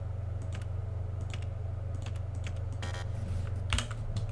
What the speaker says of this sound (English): Then you go here and type in a code instead.